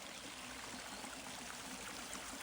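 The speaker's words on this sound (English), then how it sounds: "including this waterfall" Waterfall spilling into a garden goldfish pond with a filtration setup, a steady broadband rush of falling water, continuous and even with no voices over it.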